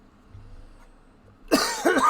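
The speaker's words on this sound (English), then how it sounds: "Of course, the second I unmute my mic, I got a cough" A single man coughs twice close to the microphone right after it is unmuted, sharp and loud following a stretch of near silence.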